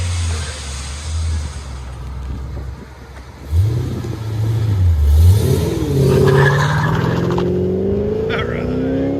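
A Pontiac GTO with a 6.0L V8 and Bassani cat-back dual exhaust revs nearby, a sharp rising blip followed by a deep, swelling engine roar, with people talking over it.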